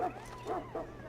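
Three quick barks from a Mabari hound in the game Dragon Age, evenly spaced and fairly close, ringing out over a low steady hum.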